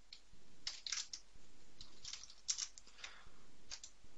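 Keys clack softly on a computer keyboard in brief irregular bursts, quiet and close, with no voice.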